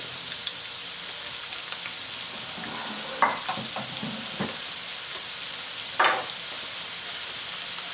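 Carrot rice sautés quietly in a pan, a faint steady sizzle with a couple of brief stirring scrapes, close by and without speech.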